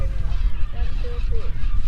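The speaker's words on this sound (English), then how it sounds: "That's the Upland Goose, that's the name" Upland Goose honking on Magdalena Island near Punta Arenas, a few short nasal calls rising over steady wind rumble and outdoor background noise.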